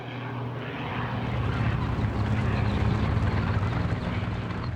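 A WWII German propeller airplane drones steadily throughout, a dense, constant engine roar at moderate distance with no pauses or speech.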